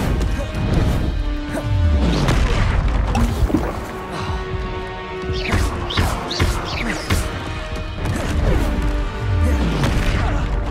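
Expelliarmus spell cast in Hogwarts Legacy combat, several loud whooshing magical blasts and crashing impacts recurring through the fight with heavy thuds and smashing noises.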